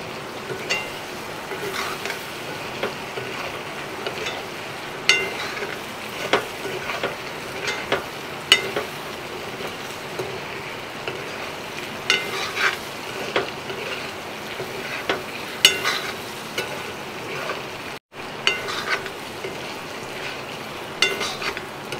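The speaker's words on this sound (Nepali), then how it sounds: "अब राख्दैछु मैले अहिले पिसेको मर मसला" Freshly ground spices fry in hot oil with chicken in a village kitchen, a steady close sizzle with occasional stirring scrapes and clinks, continuing unbroken with no talking.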